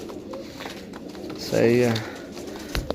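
Pigeons coo in a loft, a brief low throaty coo rising over steady background noise while someone talks nearby.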